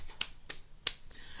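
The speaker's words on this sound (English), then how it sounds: "Golf clap." Soft, polite golf clap: a few sparse, quiet hand claps spaced out over a second and a half, close and dry with near silence between them.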